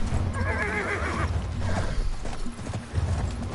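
A horse in the video game Battlefield 1 gives a loud, wavering whinny early on, followed by clip-clopping hooves and mechanical clanking in the background.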